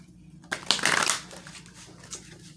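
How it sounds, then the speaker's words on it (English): Two decks of angel cards are shuffled together in a quick riffle and a soft flutter, close and fairly quiet, with a faint follow-up rustle. "There's actually two decks here for angels that I'm just going to shuffle them together that way."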